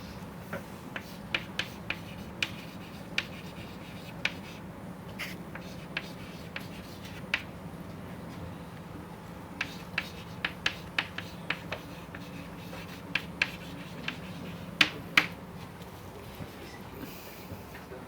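A lecturer writes out a theorem during a lecture on undirected graphical models. Scattered, quiet taps and faint scratches come at an irregular pace, with no talking.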